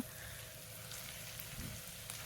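Soft, steady crackle of chopped garlic, ginger and green chili frying in hot oil, faint and continuous with a few slightly louder pops, no voices.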